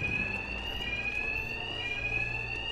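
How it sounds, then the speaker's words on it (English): Alarms blare in Batman Arkham Knight, a continuous high-pitched electronic siren tone that holds steadily throughout over a low rumbling background, loud and unbroken with no voices. "these thugs can't hear a thing over the alarms"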